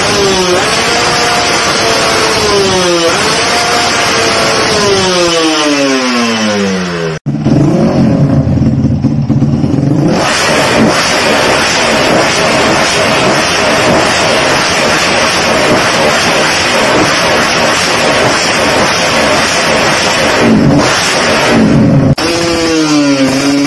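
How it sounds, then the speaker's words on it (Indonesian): A motorcycle engine with a properly set pilot jet and main jet revs up and down repeatedly, loud and close, with rising and falling pitch, a short cut partway through and some wind noise on the microphone. "Nah ini contoh video settingan pas, baik ini dan juga si itu."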